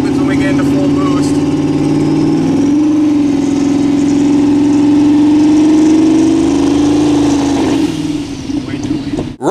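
A twin-turbo 5.2 liter Dodge Magnum V8 fitted with two GT35 turbos, in a Dodge Ram pickup on the road, drones steadily while cruising, its pitch easing slightly before the engine note drops away near the end.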